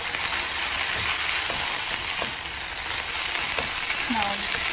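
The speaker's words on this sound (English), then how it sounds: "I'm going to add the celery. I'm just continuing to saute it." Onions and celery sauté in a pan with a steady, continuous sizzle and a few faint utensil clicks, close and even throughout.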